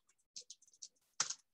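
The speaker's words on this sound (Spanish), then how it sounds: "Voy a escribir, a ver, el teclado de mi computadora es nuevo." Keystrokes on a new computer keyboard, a quick irregular run of crisp clicks followed by a louder burst of rapid taps, close and alone.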